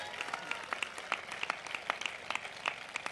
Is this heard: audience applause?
yes